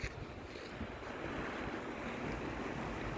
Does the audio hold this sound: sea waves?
yes